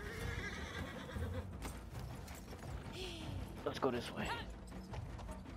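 Horse neighing and hooves clopping in Battlefield 1, a World War I shooter, heard beneath game noise and a player talking, with a whinny rising near the end.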